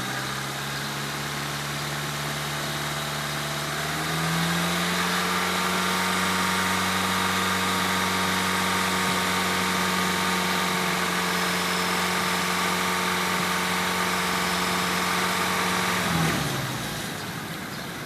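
Car engine idles steadily with a low hum, then the revs rise slightly and a radiator fan switches on, governed by a CP-101 thermo-air converter controller; a fuller whirring layer joins the engine near the microphone before everything cuts out at the end.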